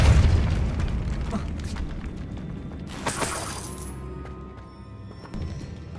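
Depulso spell in Hogwarts Legacy striking and smashing objects: a heavy booming impact followed by a bright shattering crash and scattering debris, with the game's ambient rumble underneath.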